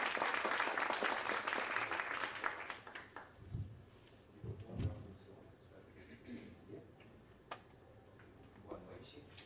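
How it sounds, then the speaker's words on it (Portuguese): Audience applause at an evening philosophy talk on Buddhism, a dense burst of clapping that thins out to scattered claps and light crowd noise as it fades. "Vamos recebê-lo com aplauso."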